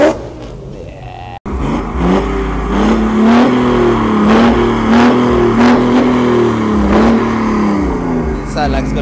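Loud car engine revving at a street car meet, the exhaust rising and falling in repeated surges, with a crowd talking nearby after a brief cut at the start.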